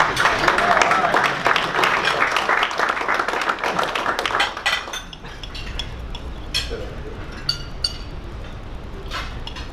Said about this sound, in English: We have time to clap.